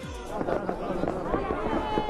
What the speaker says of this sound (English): a massive fireworks display out of Istanbul, lighting up the sky over the strait that connects Europe to Asia